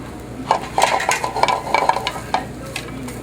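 Breaded eggplant slices fry in hot oil in a pan, a steady sizzle broken by scraping and clinking of a utensil being moved around, close and fairly loud.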